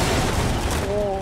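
Rapid gunfire from a shooter in the video game Garry's Mod, a dense run of loud shots filling the whole short moment, with a faint tonal hum entering near the end.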